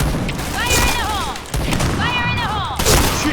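Rapid gunfire bursts from the online shooter Point Blank, close and loud, with sharp repeated shots over a busy game soundscape and faint tonal effects sweeping through.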